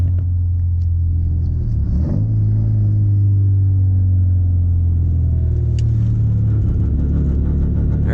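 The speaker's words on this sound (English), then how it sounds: "There's the exhaust." A Porsche 944's exhaust booms in a loud, steady low rumble while driving, with pitch rising and falling slightly as the engine works through gears.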